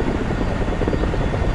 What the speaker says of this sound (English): There's a KA-50 on the north side.